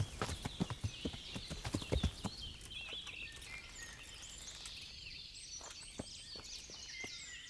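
Riderless dappled grey horse galloping loose through a fantasy knight video game, rapid hoof clip-clops loud up close at first, then trailing off into fainter steps while birds chirp steadily in the background.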